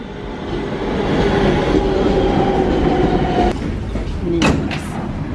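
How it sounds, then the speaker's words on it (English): A Manhattan-bound Q local train on the New York subway rumbles into a station, its loud steady roar dropping away near the end, where a brief sharp screech or door sound stands out. "This is a Manhattan-bound Q local train."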